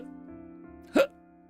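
A voice imitating a hiccup gives one short, sharp vocal hiccup, close and clear over a steady background hum.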